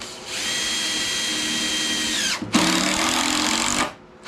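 Power drill driving screws into wood in a barn, a long steady whine with a short pause before a second run, close and loud, stopping briefly near the end.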